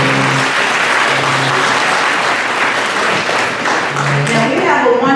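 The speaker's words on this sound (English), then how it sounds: "let's get another big round of applause for all of our veterans here" Loud, sustained applause from an audience honoring veterans at a Veterans Day program in a senior center, a dense wash of clapping with some voices and cheers mixed in, steady throughout.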